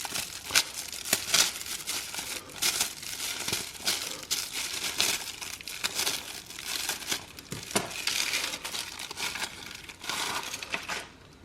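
A perforated cardboard Mr. P's Crispy Crust pizza box wrapped in plastic is pulled open, making close, irregular bursts of crinkling, crackling and tearing with brief pauses between them.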